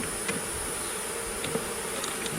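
Honey bees buzz inside a hive among frames of brood cells tended by nurse bees, making a dense, steady drone with faint scattered ticks and no voices.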